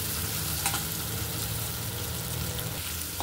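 Poppy seeds and spices dry-roasting in a kadai, giving a dense, even sizzling crackle that stays close and steady, with a couple of faint scrapes from stirring.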